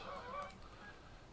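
A Canada goose honks loudly at the start, a short run of nasal calls about an hour south of the Canadian border, then fades into faint outdoor background.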